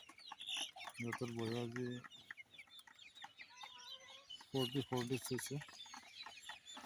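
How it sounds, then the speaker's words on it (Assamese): Sonali chickens on a small farm cluck in scattered bursts, with a flock of about 118 birds heard close by under a person's talk. "এয়া বন্ধুসকল মোৰ সোণালী মুৰ্গী"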